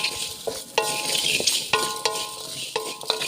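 Spices and aromatics dry-roasted in a pan without oil while stirred with a utensil: scraping and clinking strokes recur every second or so over a soft, steady sizzle, close and without voices.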